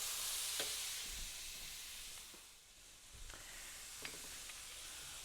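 Onions and garlic sautéing in a pan for a kale, mushroom and buckwheat dish, with a soft, steady sizzle and a few faint clicks and scrapes from stirring, quiet and close with no voices.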